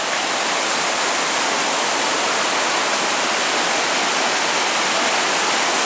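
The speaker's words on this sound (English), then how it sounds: "we're crossing over the river, I think," River water rushing steadily beneath a bridge on the Superior Hiking Trail, a dense, continuous broadband roar close by with no pauses, like a small waterfall.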